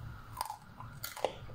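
Close, quiet crunching as crisp Samyang noodles are bitten and chewed, two sharp crunches standing out.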